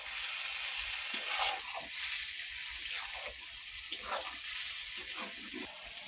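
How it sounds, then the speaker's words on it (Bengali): Duck meat sautéing in a pan with spices and a little water gives a steady sizzle and fry hiss, broken by occasional scraping stirs, close and continuous. "এবারে মাংস দিয়ে দিল এবারে এটাকে কষানো হবে"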